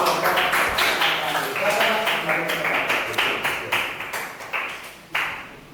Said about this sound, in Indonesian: Silakan tepuk tangan saya lagi untuk presentasi